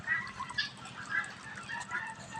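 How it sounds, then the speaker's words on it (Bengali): Chinese geese on a Bangladeshi poultry farm, calling with soft scattered honks at a moderate distance beneath a steady low background murmur. "এই যে দেখেন আমাদের এখানে আরও চিনার হাঁস আছে"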